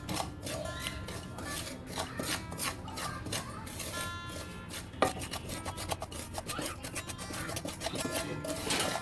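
Half a cup of semolina scraped and stirred dry in a kadai for mango halwa, a continuous gritty rubbing and rasping with quick irregular strokes, close and fairly quiet, with no talk.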